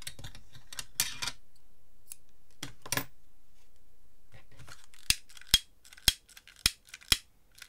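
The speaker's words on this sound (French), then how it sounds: "Et je vais également couper les bouts." Paper scissors snip the ends off a handmade booklet, scattered rustles early on, then five sharp, evenly spaced close cuts near the end, with no one speaking.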